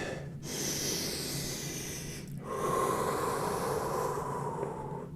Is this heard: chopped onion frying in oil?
no